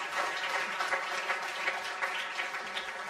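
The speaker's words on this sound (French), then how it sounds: "Tonnerre d'applaudissements pour Cédric" Applause for Cédric, a faint, thin patter of clapping from a small group, steady throughout with no voices on top.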